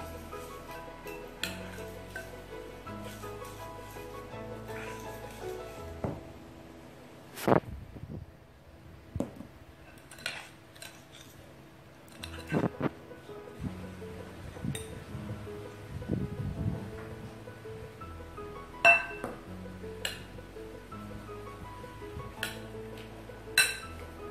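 Cassava flour being mixed into a gluten-free chocolate chip cookie dough, with repeated clinks and scrapes of a utensil against a bowl in an uneven rhythm, close and fairly quiet, with no talking.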